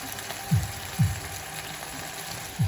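Milkfish (bangus) frying in a pan, a soft steady sizzle broken by three brief popping bursts of spattering oil, quiet and close.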